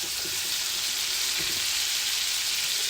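Lamb loin chops sizzling in olive oil and butter in a stovetop pan, a dense steady hiss of frying throughout, close and even, with a few faint low taps.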